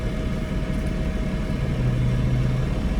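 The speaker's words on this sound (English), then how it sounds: "I hope this bus sound is not like super annoying." A bus engine idles nearby, a steady low rumble with a faint constant whine, slightly swelling toward the end, heard alone with no talking.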